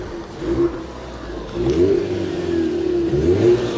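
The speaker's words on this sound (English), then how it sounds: "Thomas, rev the engine, sir." A 2016 Ford Mustang EcoBoost engine revs outdoors in a couple of rising and falling bursts over a steady idle, heard at moderate distance with no talking.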